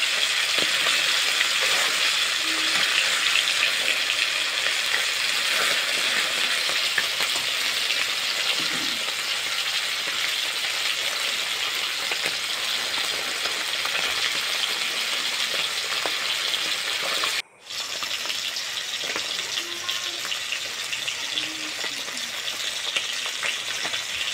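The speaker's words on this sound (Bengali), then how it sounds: "সর্ষে বাটা রান্না করার জন্য মাছগুলোকে খুব বেশি ভাজবো না, আর একদম খুব কমও ভাজবো না" Fish pieces frying in a pan of hot oil, a continuous dense sizzle and crackle, loud and close, holding steady throughout with only a brief break near the end and no talk.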